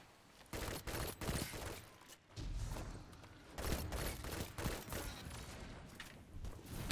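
The Claws of the Wolf pulse rifle fires in rapid bursts during a video game firefight, fast repeated shots in clustered volleys, close and punchy, with short gaps between bursts.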